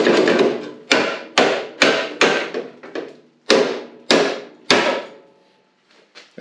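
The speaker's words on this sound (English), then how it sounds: "Hammer time." Sharp metallic hammer blows strike a beach buggy chassis panel about ten times at an uneven pace, each ringing briefly before fading, with a few lighter taps at the end.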